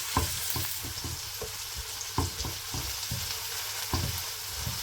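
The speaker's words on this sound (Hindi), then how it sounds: "इसमें अदरक और लहसुन भी डाल देंगे और थोड़ा सा फ्राई करेंगे 30 सेकंड के लिए।" Steady sizzling of ginger and garlic frying in a hot pan, with a spatula tapping and scraping the pan now and then, no talking.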